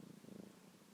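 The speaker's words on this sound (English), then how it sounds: "if you can hear my cat purring in the background" A domestic cat purring steadily and fairly faintly, a low continuous rumbling hum with gentle pulsing throughout, close by and with no talking over it.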